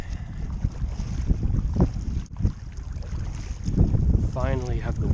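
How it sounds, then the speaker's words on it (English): Strong, relentless wind roars and buffets the microphone during a solo kayak fishing and camping trip in Temagami, heard as a constant low rumble with gusty swells and some water sounds. "This wind has been relentless."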